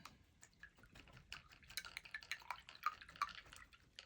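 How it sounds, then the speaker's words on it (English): A watercolor paintbrush is rinsed in a small container of water, giving soft sloshing, swishing and light dripping sounds close to the microphone, with no talking. "Clean my brush."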